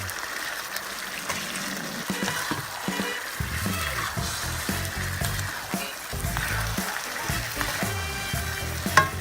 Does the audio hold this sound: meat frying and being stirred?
yes